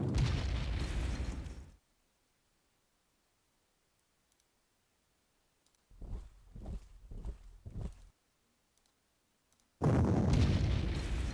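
Muffled wartime artillery booms and blasts in the strategy game Panzer Corps, a loud burst, then silence, a cluster of quick pops and thuds, and another heavy rumbling burst.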